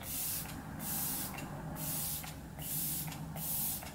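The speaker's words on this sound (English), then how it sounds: "I'm going to go ahead and set with the Flower Beauty Seal the Deal Long Lasting" Flower Beauty Seal the Deal long-lasting setting spray mists in four quick bursts, each a soft, airy hiss close by with brief gaps between pumps.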